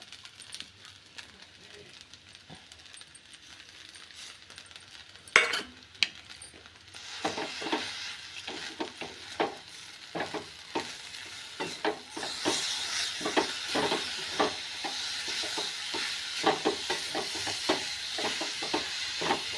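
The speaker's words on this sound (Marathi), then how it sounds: "असे साबुदाणा चांगला परतून घ्यायचा, म्हणजे मोकळी खिचडी होते, कधी पण चिवट होत नाही" Sabudana khichdi with peanuts being stirred and sautéed in a pan, with scraping, light sizzling and small clinks repeating steadily, close and moderately loud, growing busier partway through.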